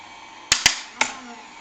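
A Gemini die-cutting machine running with its cutting plate, giving off three sharp, loud clacks, two in quick succession and a third a moment later, over a faint steady motor hum.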